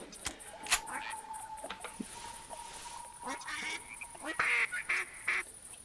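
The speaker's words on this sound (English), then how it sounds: "And we've got more ducks." Ducks, including mallards, quack in a bayou duck hunting video game. Scattered clicks and faint game tones lead into a louder cluster of quacks near the end.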